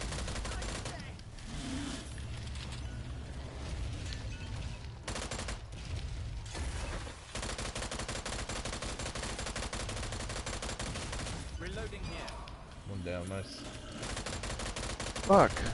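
Sustained gunfire from enemies in the video game Strange Brigade, rapid bursts and volleys running almost continuously at steady loudness with brief gaps, mixed with game effects and other action sounds.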